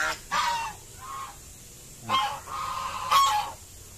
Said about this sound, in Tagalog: Maingay ang gansa.